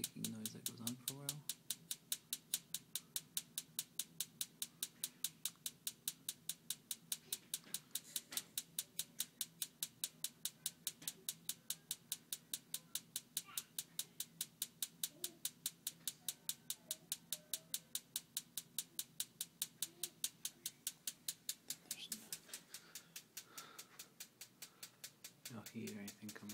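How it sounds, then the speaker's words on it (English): A home furnace that ticks without producing heat makes a rapid, steady mechanical ticking, evenly spaced and continuous for the whole stretch, fairly faint over a low background hum. "this is the ticking noise that goes on for a while"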